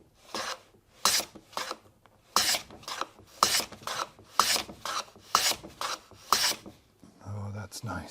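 A Krenov-style wooden shooting plane takes repeated strokes across the end grain of a board, each pass a close, raspy shearing swish. Around a dozen strokes come in a steady back-and-forth rhythm, followed by a brief low thump at the end.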